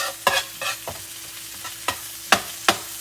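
Onions in melted butter being stirred in a pan: several scraping swishes spaced out over a few seconds, each sharp and close, with a soft sizzle underneath and no voices.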